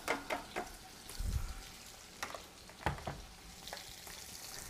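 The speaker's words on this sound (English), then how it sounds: "I have the pan going. You can just put the scallops right in." About a pound of scallops dropped into a hot pan, giving faint sizzling and frying with soft crackles, a few sharp taps and scrapes, fairly quiet and close with no talking.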